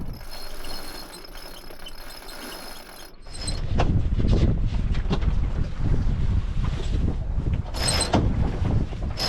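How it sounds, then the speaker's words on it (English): Wind rushing over a sailing yacht in Scotland, a low blustery roar buffeting the microphone with creaks of rigging, starting quieter and growing stronger and steadier partway through. "We've got a bit of wind, so let's get the sails back out."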